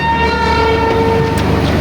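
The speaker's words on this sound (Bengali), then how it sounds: "খাজুরি থেকে আমাদের ট্রেন ছেড়ে দিল।" Passenger train pulling out of Khajuri station on the Gangasagar Express route, a steady rolling rumble with a sustained horn tone running through it, close and loud with no talking.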